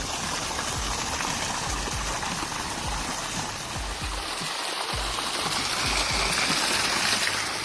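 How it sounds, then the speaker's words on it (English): Water from heavy rain gushes steadily out of a hole in a hollow tree trunk in Montenegro, a constant loud rushing splash with no talking. "Additional pressure pumps water through the hollow trunk of the tree and leads it out through the hole."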